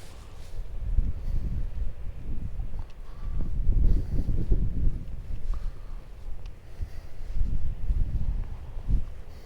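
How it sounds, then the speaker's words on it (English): Gusty wind buffets the microphone on the beach at Assateague Island, rumbling low and steady with stronger surges near the middle and end, no voices heard. "it's a little more windier"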